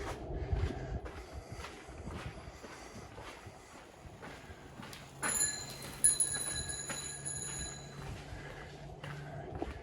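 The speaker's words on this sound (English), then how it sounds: "A little belated on ringing the bell there." A bright, ringing bell chimes a few times outdoors over footsteps and wind rumble, its tone lingering briefly after each strike.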